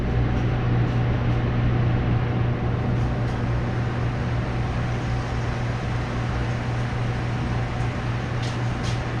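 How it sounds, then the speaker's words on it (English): Cheese-filled appetizer deep-frying in a deep fryer to crisp its outer coating, a steady, continuous bubbling hiss over a low electrical hum that holds even throughout, with no voices. "we're going to pop this in the deep fryer for about 2 minutes to get a nice coat on the outside"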